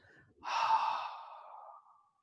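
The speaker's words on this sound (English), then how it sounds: "bring the body back upright again and breathe out" A single long, audible exhalation during a qi gong exercise, a soft close breathy sigh that rises quickly and fades out over about a second and a half.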